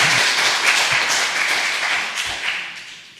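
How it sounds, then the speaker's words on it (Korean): Church congregation applauding after a sermon remark, a dense wash of many hands clapping that stays steady and fairly loud throughout, with no voices over it. "박수 한번 쳐야 됩니다"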